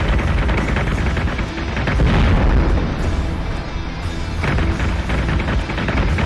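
Spaceship batteries firing in the Battlestar Galactica Deadlock space battle game make loud, continuous booming barrages with dense overlapping blasts and rumbling explosions throughout.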